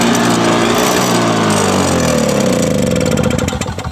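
Toro CCR 2000E snow thrower's small engine running steadily and loud, a continuous buzzing drone with harmonic hum, then speeding up slightly and fading toward the end.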